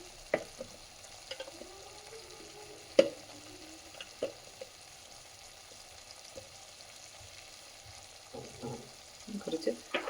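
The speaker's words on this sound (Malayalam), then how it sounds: "ഇതെല്ലാം കൂടെ നല്ലതുപോലെ ഒന്ന് ഇളക്കി യോജിപ്പിച്ച് കൊടുക്കാം." Spices fry in butter inside a clay pot for a mushroom curry, a faint soft sizzle beneath irregular spoon scrapes and knocks against the pot, with a busier cluster of stirring clatter toward the end.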